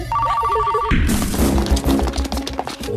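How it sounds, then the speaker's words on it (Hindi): A telephone rings with a short electronic bell trill in an action film scene, cut off after about a second by a loud thudding crash and a dense chaotic clatter. "फोन उठा, फोन उठा।"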